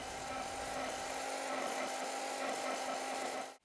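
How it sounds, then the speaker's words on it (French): An electric hand mixer whips cream with icing sugar in a bowl into firm Chantilly, a steady, close, continuous motor whine that holds level for about three and a half seconds before cutting off. "on fouette à l'aide du batteur électrique jusqu'à ce qu'elle monte bien ferme"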